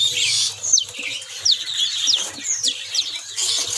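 Songbirds chirp at a bird-market kiosk selling rare bird species, with repeated bright, rising calls coming from several caged birds. The calls are fairly close and continue steadily over a soft background hum.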